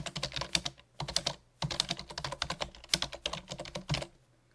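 Typing a paragraph on a computer keyboard in LibreOffice, with quick close key clicks in several bursts separated by short pauses and no voices.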